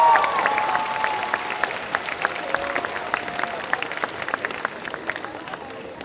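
A convention crowd applauds a cosplayer at a solo cosplay contest; loud clapping starts strongly and gradually thins, with music tones and scattered individual claps continuing over the crowd noise.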